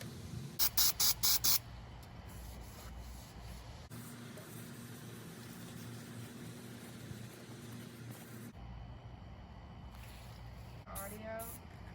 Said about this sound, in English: then I'll spray it down, prep it, wipe it down, and get some paint on it